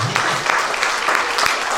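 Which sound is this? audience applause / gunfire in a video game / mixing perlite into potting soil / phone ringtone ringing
audience applause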